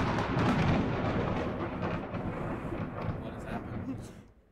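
A deep thunder rumble rolls from the Nun Massacre horror video game, loud at first and slowly fading away over a few seconds, with faint rain-like texture underneath.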